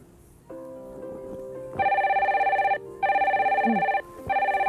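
A telephone rings in repeated electronic trilling bursts, each about a second long, with short pauses between them. The ringing is fairly loud and close, over a faint low background.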